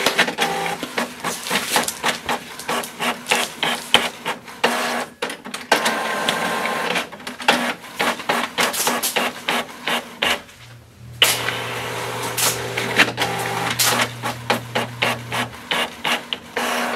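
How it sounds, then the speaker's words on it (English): A Canon Maxify GX4020 inkjet printer prints a double-sided document, with rapid repeated mechanical clicks and whirring passes, a brief pause, then a lower motor hum as printing continues. "I'm going to let you hear what it sounds like when it's actually printing"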